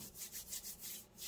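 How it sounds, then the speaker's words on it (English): Folded paper from a file folder being rubbed down firmly along a score line for a stacked envelope junk journal: about six rhythmic, close, dry rubbing strokes with no voices. "Rub down."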